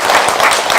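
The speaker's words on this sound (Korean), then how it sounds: "감사의 박수." Audience applause at a Buddhist temple gathering, thanking two monks for preparing a living pre-death memorial ceremony; a short, dense burst of clapping that fills the whole moment without voices.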